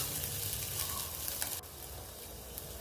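Grated garlic and ginger sizzle in hot frying oil for noodles, a steady crackling hiss with some stirring that softens slightly partway through, heard close with no talking.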